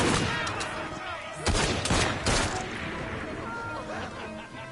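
Weapons fire in Assassin's Creed Syndicate: a dense fusillade of gunshots with loud bursts around the middle, layered over game ambience and continuing at lower level.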